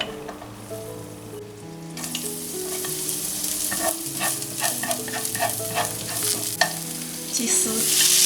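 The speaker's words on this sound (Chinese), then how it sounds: "葱蒜爆香。" Scallion and garlic stir-frying in leftover base oil for a Shandong-style shredded chicken with coriander, a steady loud sizzle with scattered scraping stirs across the pan, no voices.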